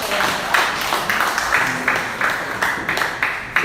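An audience at a patriotic political forum claps for an introduced guest, with steady, rhythmic clapping bursts close by and no talk.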